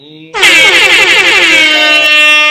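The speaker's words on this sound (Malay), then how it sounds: "Kita nak bagi DJ Horn juga." A loud, blaring DJ air horn sound effect kicks in sharply after a brief lead-in and holds with a wavering, brassy tone until the end.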